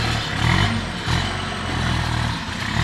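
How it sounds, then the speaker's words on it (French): A tractor works in a neighbour's garden nearby, its engine rumbling loud and steady with slight surges and dips. "Donc le son que vous avez là, c'est le tracteur."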